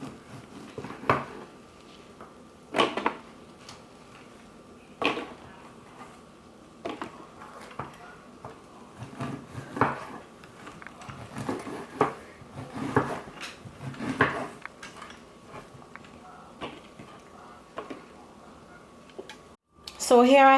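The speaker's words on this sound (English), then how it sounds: "I'm now going to slice these into cubes before I put it into the processor" A knife slices bread into cubes with intermittent knocks on a cutting board, spaced every second or two, under faint talk.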